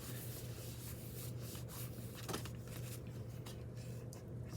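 Paper being rubbed flat by hand onto a book cover: a steady, soft, dry rubbing and brushing texture, faint and continuous, with one slightly sharper scrape midway and no speech.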